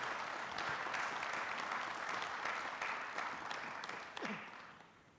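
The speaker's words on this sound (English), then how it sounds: "Let's give these guys a big round of applause." Applause at a city council meeting, steady crowd clapping in a room, fairly faint, tapering off toward the end, with a brief voice near the close.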